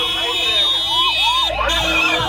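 Ambulance and police sirens wail at the Rath Yatra festival in Puri, a rising and falling electronic tone cutting through a dense crowd, with a voice talking over it.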